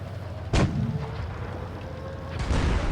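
Two booming tank gun shots in World of Tanks Blitz, a Hellcat versus Jackson matchup, fire about two seconds apart, each a sharp broadband blast with a short rumbling tail over steady game engine drone.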